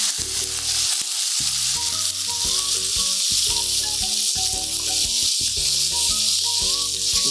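Onions and brinjal sautéing in a pan for a brinjal masala rice dish, a constant loud sizzle and hiss of frying with occasional stirring, while background music with clear melodic notes plays throughout.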